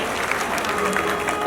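Brief applause at a Jain temple gathering in Bharatpur, a soft, even patter of clapping from a modest crowd.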